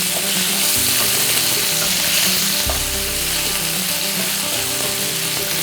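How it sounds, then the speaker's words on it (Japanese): Chorizo stir-fried in a pan sizzles loudly and continuously, with soft scraping and shuffling of a utensil moving the pieces around at close range. "なるべくこのチョリソーもね、形を崩さないように丁寧に炒めていきましょうか"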